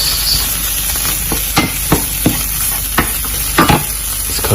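Pork fries in a pan with a constant close sizzle, punctuated by several clacking stirs and scrapes of a utensil against the pan; no one speaks.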